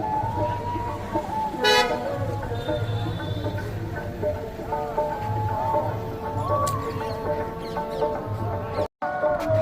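A car carries passengers through the streets of Allahabad (Prayagraj), engine rumbling in busy traffic, with a short horn toot early on and other horns around, while people talk throughout.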